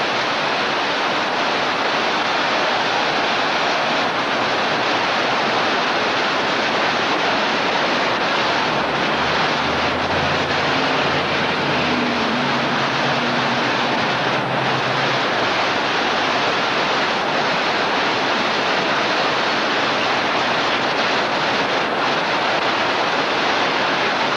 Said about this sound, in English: It's the water as it comes down out of the hills.